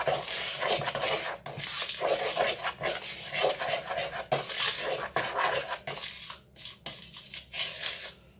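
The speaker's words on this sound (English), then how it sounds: "So you just mix them enough milk in until you have a soft dough, but not too soft." Scone dough being mixed in a bowl with milk, with repeated scraping and clinking of a utensil against the bowl at an irregular, busy pace, close up, with no talking.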